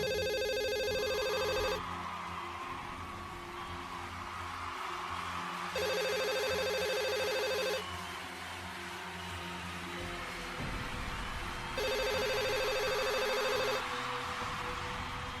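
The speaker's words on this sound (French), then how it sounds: "Tu peux dire à tout le monde que le téléphone rouge est maintenant activé." A red telephone in The Sims 2 rings in three separate bursts of electronic ringing, spaced by pauses, over a steady background of game music and ambience.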